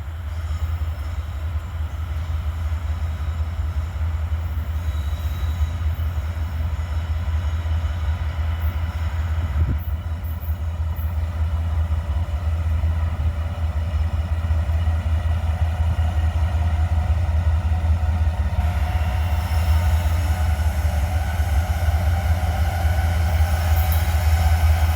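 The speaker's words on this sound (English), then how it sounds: "So I imagine this is that SCWX coal train." An SCWX coal train rolls past near Abbeville, a continuous deep rumble of heavy wagons and wheels on rail with faint squeals, steady and close for the whole stretch.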